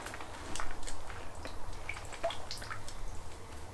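Water drips and trickles from a potted fruit tree soaking in a bucket, soft scattered droplets and light splashes, close and quiet over a low steady background hum.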